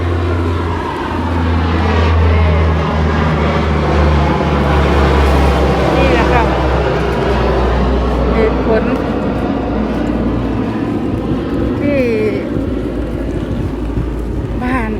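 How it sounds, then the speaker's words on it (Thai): A steady, loud airplane drone passes overhead and fills the whole stretch, while someone talks briefly over it. "เสียงเครื่องบินค่ะ"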